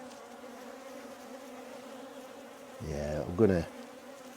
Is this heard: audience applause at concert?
no